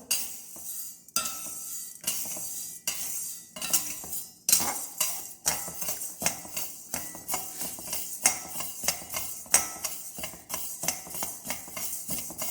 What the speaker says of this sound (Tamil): சிம்மிலே வறுத்துடலாம். தீ கொஞ்சம் கம்மியாக வச்சே வறுக்கலாம்.